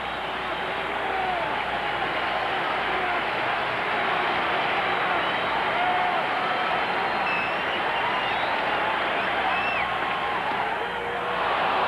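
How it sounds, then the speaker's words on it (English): A crowd at a Dodgers baseball stadium during a National League Championship game cheers and roars in a sustained loud wash that barely varies in level, while a commentator's voice runs over it. "The crowd going wild."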